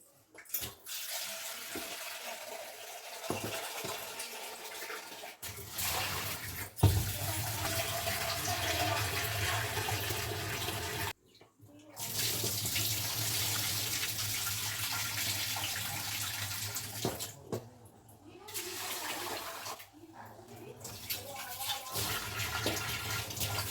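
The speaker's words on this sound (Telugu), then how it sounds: "బియ్యం అయితే కడుగుతున్నా అండి." Rice is washed under a running kitchen tap, with water splashing and pouring in several long bursts separated by brief pauses, close by.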